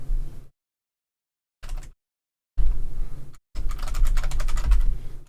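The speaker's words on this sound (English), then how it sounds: "Sorry for the noise of the keyboard," Computer keyboard typing comes in close, loud bursts of rapid clicking separated by short silent gaps, with a brief burst early on and longer dense runs of keystrokes toward the end.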